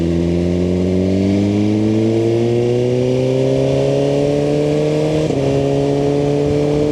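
A Suzuki GSX-R1000R sportbike runs at high speed on the road, its engine holding a loud steady drone that rises slowly in pitch, with a brief shift-like blip near the end and wind rush throughout.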